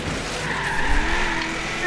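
A 1940 Ford Coupe in Forza Horizon 3 skids and crashes, with loud tire squeal and engine noise held steady through a short burst.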